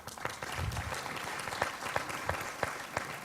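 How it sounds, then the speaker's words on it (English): Applause from a plenary session audience at a youth and community solutions event, a steady dense wash of clapping with a few sharper individual claps standing out, sustained for several seconds. "I think you can give yourselves a really big hand of applause."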